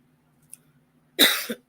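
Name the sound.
cough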